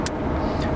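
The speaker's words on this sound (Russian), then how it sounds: "вот сейчас мы едем на машине" A car rolls along the Abu Dhabi Corniche waterfront road at night, its steady engine and tire rumble close and continuous, with a couple of faint hissy swishes of passing air.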